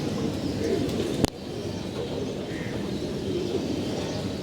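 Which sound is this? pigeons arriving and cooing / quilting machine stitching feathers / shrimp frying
pigeons arriving and cooing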